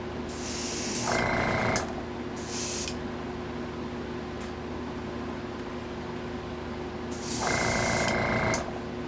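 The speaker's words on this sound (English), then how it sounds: "So now we'll spray a lighter coat of gold on here." Hissing bursts of gold spray paint sound in short blasts, two near the start and one longer near the end, over a steady mechanical hum, coating a scale model nacelle.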